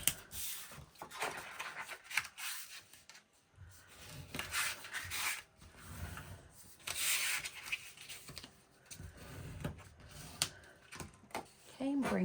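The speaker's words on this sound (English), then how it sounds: "we're going to fold our lines. And burnish." Folded paper lines for a book box are rubbed and burnished with repeated scraping strokes, close and moderately loud.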